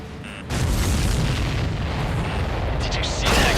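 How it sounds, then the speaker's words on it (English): A missile explosion in the combat flight game Ace Combat 7 erupts as a sustained, loud rumbling boom, with a sharper crackle near the end. "Did you see that explosion?"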